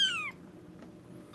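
A mother cat meows near her kittens, with one clear, close meow at the start and another beginning at the end, separated by quiet room tone.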